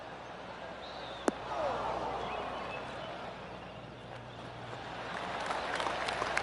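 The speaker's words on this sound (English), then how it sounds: "That deserves a golf clap." Crowd applause after a golf shot in the PGA Tour 2K21 video game, a steady, moderate wash of clapping that swells slightly and holds, heard at a distance after a sharp click.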